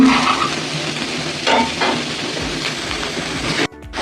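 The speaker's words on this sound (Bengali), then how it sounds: "এখানে উচ্ছে আলু আর ফুলকড়ি ভাজা বসিয়েছি" Bitter gourd, potato and lentil dumplings fry in a pan with a close, steady sizzle and occasional stirring scrapes, ending in a sudden short break.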